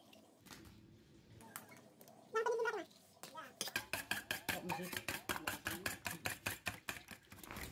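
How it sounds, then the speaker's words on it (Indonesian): Rapid rhythmic clinking of a whisk beating two eggs in a bowl, steady and close, preceded by some kitchen clatter and brief sounds. "Sekarang kita kocok dulu 2 butir telur."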